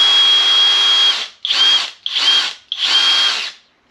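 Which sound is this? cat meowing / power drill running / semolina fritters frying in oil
power drill running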